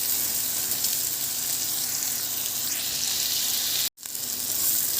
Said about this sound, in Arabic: وهحط كمان هنا البصله بالشكل ده، وهديها بس ايه تشويحتين كده